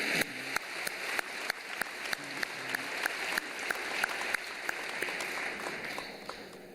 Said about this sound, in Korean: 다 같이 뜨거운 박수를 한번 보내주실까요?